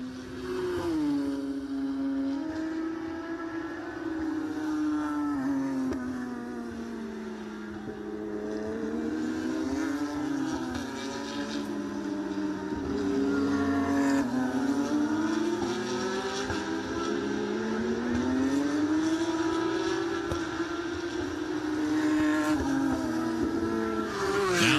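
Porsche GT3 Cup race cars on the final lap of a timed race at Canadian Tire Motorsport Park, engines droning loudly and continuously with rising and falling pitch as drivers shift through corners, no voices.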